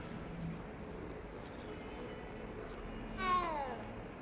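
A cat in the Hogwarts Legacy video game lets out a single short, clear meow near the end, over quiet ambient background.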